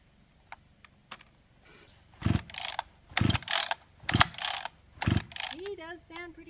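A Husqvarna chainsaw that won't start, pulled by its starter cord in four loud, rasping yanks roughly a second apart, each ratcheting whir close by without the engine catching.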